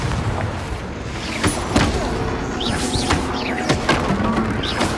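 Fiery Confringo blast spells burst in Hogwarts Legacy combat, several sharp booming impacts scattered across the moment amid dense spell-clash noise, loud and close.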